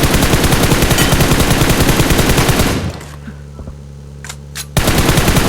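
Loud, rapid automatic gunfire in the mobile battle royale game PUBG Mobile, heard as a continuous close burst, then a short lull with faint tones before the firing resumes.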